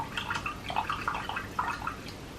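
A paintbrush dipped into a pot of water, a short run of small close splashes and drips as it swishes about.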